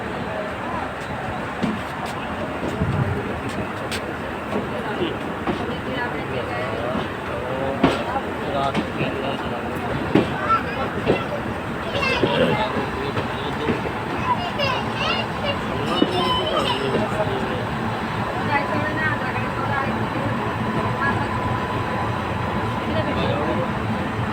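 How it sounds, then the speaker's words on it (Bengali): Inside a moving passenger train on the Kolkata to Dehradun route, a continuous rumble and rattle of the carriage with children and other passengers talking throughout. "আবার ট্রেনে উঠে পড়লাম।"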